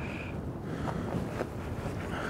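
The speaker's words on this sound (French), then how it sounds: "le vent qui se prend dans l'épuisette" Wind gusts into a fishing landing net during a perch fishing outing, a steady rough buffeting and rustling roar that stays close and fairly quiet throughout, with no voices.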